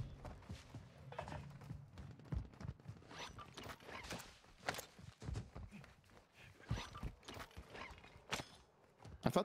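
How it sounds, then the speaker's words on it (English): Faint footsteps in the video game Warzone 2, a series of soft, irregular scuffing thuds that come and go at low volume, some bunched close together and others spaced apart. "I thought I was hearing footsteps."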